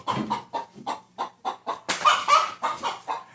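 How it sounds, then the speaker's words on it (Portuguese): A chicken wandering inside a living room clucks in a steady, rhythmic series of close, loud clucks, one every few tenths of a second, rising into a louder squawk midway, with no talking. "Ai, uma galinha aqui dentro da minha sala."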